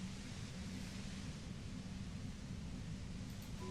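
Steady static white noise from the video game Disco Elysium hisses evenly across the whole stretch, a dense unbroken wash with no other sounds.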